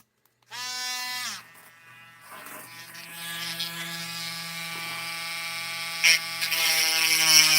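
A small power tool whines steadily as it smooths holes in a handmade toy puzzle, starting after a brief silence and grinding on with a buzzy, rising tone.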